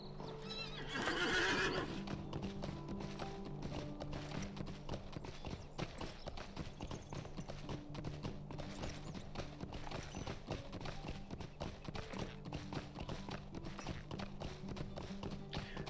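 Horse hooves clip-clop steadily in the Lord of the Rings Online video game, with a neigh near the start and a continuous game soundscape underneath for the whole stretch.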